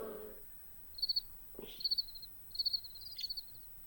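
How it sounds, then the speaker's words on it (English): Cricket chirps play as a sound effect, three or four short bursts of rapid high pulses spaced about evenly, clear and fairly close against a quiet background with a brief low thud near the start. "Crickets."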